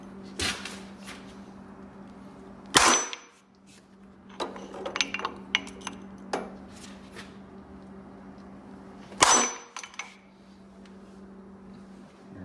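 A rear wheel bearing being hammered out of a 2008 Polaris RZR, with a few sharp, loud metallic strikes spaced seconds apart and quieter clinks of tools between them in a workshop.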